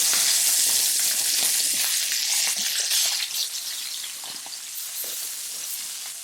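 Sea scallops sear in a hot pan, a dense, steady sizzle and crackle of frying that runs continuously at close range and eases slightly toward the end, with no voices.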